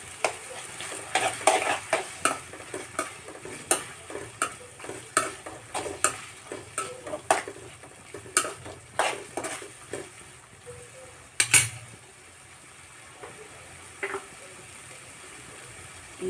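Spicy field beans and chopped tomatoes are stirred in a pan, a spoon scraping and clacking against the metal in steady repeated strokes over a light sizzle, with one sharper clank near the end.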